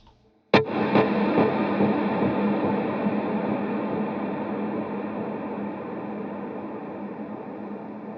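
An electric guitar chord rings out with heavy delay and reverb, sustaining as a wash of distorted tone that slowly fades over several seconds.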